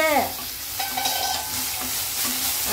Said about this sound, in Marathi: हिरव्या मिरच्या पण टाकायच्या फोडी संग भाजायला.